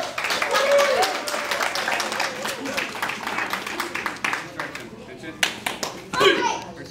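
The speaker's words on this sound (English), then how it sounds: "Let's give you guys a round of applause." Enthusiastic clapping and applause from a small crowd of children and adults at a youth wrestling match, a brisk patter of many hands with kids' voices and talk over it.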